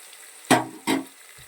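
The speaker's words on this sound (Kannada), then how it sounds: "ಈರುಳ್ಳಿ ಒಂದು ಸ್ವಲ್ಪ ಕಲರ್ ಚೇಂಜ್ ಆಗೋ ತನಕ ಫ್ರೈ ಮಾಡ್ಕೊಳ್ಳೋಣ" Onions frying in a pan of ghee-rice masala, heard as two short, fairly loud bursts of sizzling as they are stirred, with a quiet hissing bed between and a soft low knock at the end.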